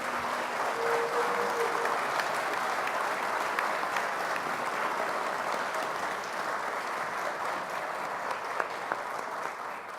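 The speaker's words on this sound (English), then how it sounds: "let us have one more round of applause for our graduating seniors and future servicemen and women" Sustained applause from a large audience at an armed services ceremony honoring graduating seniors and future servicemen and women, a steady dense wash of clapping lasting throughout at even loudness.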